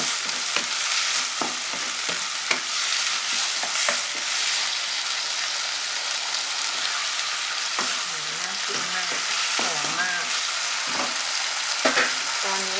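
Pork with sweet peppers, garlic and sugar stir-frying in a hot pan, a continuous loud sizzle with repeated scraping and clanking of a spatula, and a voice speaking briefly over it.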